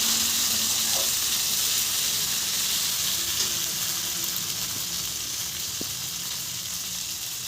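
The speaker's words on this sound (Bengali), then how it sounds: "এখন দিয়ে দিলাম চিকেন।" Chicken leg pieces fry in oil with a ginger, garlic and onion paste, giving a steady, loud sizzle and hiss up close that fades slightly over time, with no talking.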